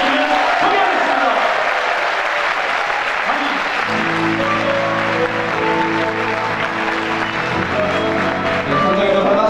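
A church congregation bursts into loud, sustained applause to welcome a pastor, dense clapping filling the room without a break, with cheering voices and music swelling beneath it partway through.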